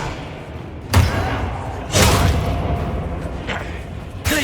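Expelliarmus spell effects in Hogwarts Legacy combat land as three sharp, heavy thuds roughly a second or more apart over a steady rumbling game background.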